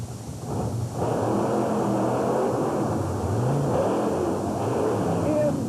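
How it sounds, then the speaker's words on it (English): Ford monster truck engine roaring through a sideways, pole-flattening solo qualifying run at a 1991 USHRA race in Worcester, a loud sustained growl that swells after the first second and holds steady. "Incredible ride for Fuchs in the First Blood machine. Sideways, taking down poles, bouncing all over the place"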